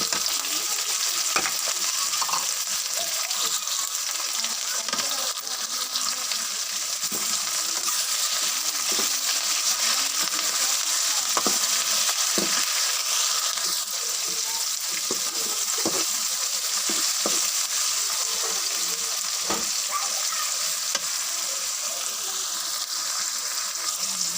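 Tomatoes and green chilies frying for chana masala, a loud, unbroken close-up sizzle with scattered clicks and scrapes of stirring running through it.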